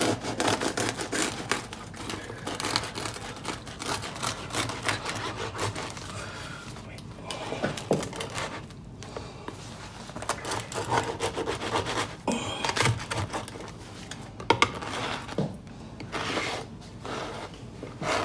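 A knife saws slowly through a homemade-bread steak and cheese sandwich, making close, rasping back-and-forth crunches in uneven strokes with short pauses between them.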